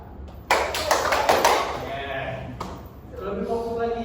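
Classroom students clap on a teacher's cue, a short burst of several sharp claps, followed by a voice speaking over faint room noise.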